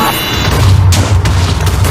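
Deep rumbling explosion sounds in the video game Minecraft roll continuously, loud and dense, with muffled booms layered over a low, heavy background.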